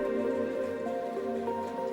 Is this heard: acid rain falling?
yes